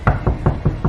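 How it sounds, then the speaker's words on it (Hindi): Five evenly spaced knocks rap on a train cabin door, each one close, solid and hollow, with a steady rhythm and no voices. "ट्रेन के उस कैबिन के दरवाजे पर एक दस्तक हुई"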